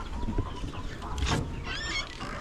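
Chickens being raised for ready-to-lay stock cluck softly at a farm, with a few brief calls over a low background murmur.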